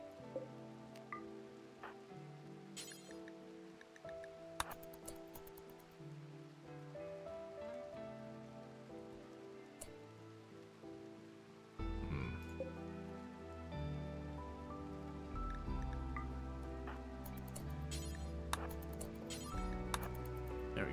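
Rain falls in a video game as a faint, steady patter under continuous background music, which grows fuller about halfway through.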